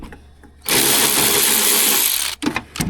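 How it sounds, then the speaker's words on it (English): A power tool loosens bolts on the drive shaft of a Skiroule 300 snowmobile in a workshop, giving one loud, steady burst of close whirring for about two seconds, followed by brief clanks. "now we're going to take these 3 bolts out"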